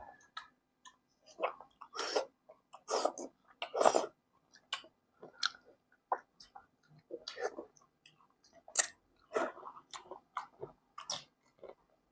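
Close-up eating of spicy Isan-style eel soup: irregular wet chewing and biting sounds in short bursts with brief pauses, loud and near, with no talking.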